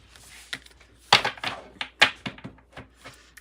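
Irregular clattering and snapping of tarot cards being shuffled close up, in uneven bursts with sharp flicks.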